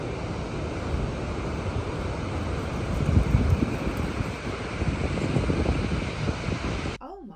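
Ocean surf at Manly Beach, Sydney, a steady close wash of breaking waves with swelling surges, buffeted by wind noise on the microphone, ending abruptly.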